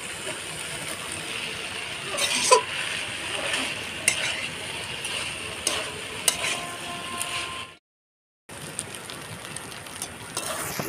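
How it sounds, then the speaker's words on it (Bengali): Jackfruit, fried potato and prawns sautéing in spices in a pan, a steady sizzle with occasional scrapes and clinks of a spatula, briefly cutting to silence before the frying resumes. "এঁচোড় আলু চিংড়ি মাছ সব কষানো হয়ে গেছে"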